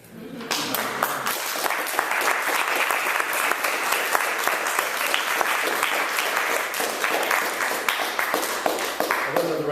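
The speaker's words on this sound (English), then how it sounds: "Another round of applause for all the readers and the musician of our first batch" Audience applause for readers and a musician at a literary series event, a dense, sustained burst of clapping that starts suddenly and holds steady for the full length, filling the room with no talk over it.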